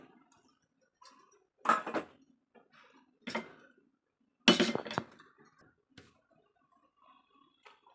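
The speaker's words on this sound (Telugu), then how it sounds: "ఫస్ట్ స్టవ్ ఆన్ చేసుకుని దాని మీద కుక్కర్ పెట్టుకుని" A pressure cooker is set down on a stovetop burner, giving a handful of metallic clanks and clinks in separate bursts, close and moderately loud, with quiet gaps between and no talk.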